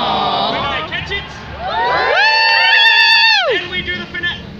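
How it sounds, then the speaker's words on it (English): A street crowd at a magician's show in Jackson Square, New Orleans cheers, whoops and whistles loudly and steadily, with rising and falling shouts and whistles near the microphone over a background of babble. "Clap, cheer, whistle if you can."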